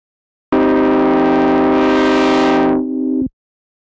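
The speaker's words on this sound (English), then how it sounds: "away we go with a really quick subtractive polyphonic synth" A loud subtractive polyphonic synthesizer chord in Cherry Audio Voltage Modular sustains evenly with a buzzy, bright tone that sweeps brighter near the end, then cuts off abruptly.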